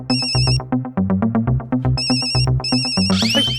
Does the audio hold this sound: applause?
no